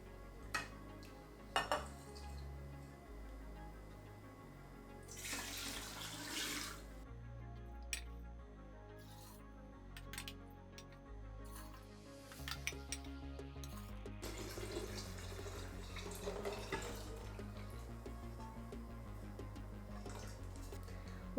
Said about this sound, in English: Then we'll pour in the brine.